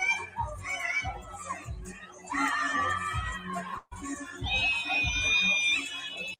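A woman screams loudly and repeatedly in high, sustained wails inside an old church, over a noisy crowd of chattering and shouting voices.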